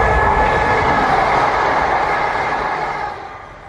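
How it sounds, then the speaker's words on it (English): A Greater Anglia passenger train arriving at a small station makes a loud, broad rumbling roar with rail noise. The sound stays steady and close for about three seconds, then begins to fade. No voices are heard. "So there comes my next train."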